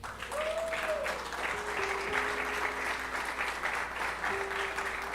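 A church congregation applauds the Lord in a sustained, even wash of clapping, while a faint tone sits underneath it at a moderate, steady level.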